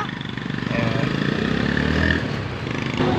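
A Honda motorcycle engine runs steadily during a road test, a close, continuous loud hum that swells slightly midway before easing back.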